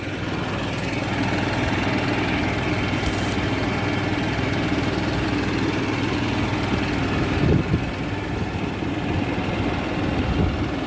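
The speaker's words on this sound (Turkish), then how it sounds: "Şimdi amcama vereyim traktörü bir devam etsin ben de çekeyim biraz." A tractor engine runs steadily while ploughing a field, a constant low rumbling drone with no pauses, close and fairly loud.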